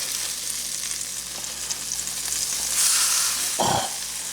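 Reuben sandwiches on corned beef fry in a pan after flipping, a close, continuous sizzle that swells briefly with a louder hiss and a short low thump near the end.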